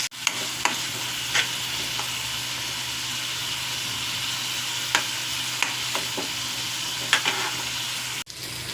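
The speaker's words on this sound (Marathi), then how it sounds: "फक्त अशा छान तेलात मिरच्या फ्राय करून घ्यायच्या आहेत." Green chillies fry in hot oil with a steady, dense sizzle, close and loud, broken by occasional scraping clicks of a spoon stirring in the pan.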